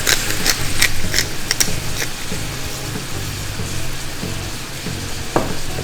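Peppers frying in a pan with juices reducing, a steady close sizzle throughout with occasional light clicks and scrapes of stirring.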